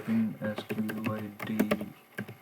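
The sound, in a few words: typing on a computer keyboard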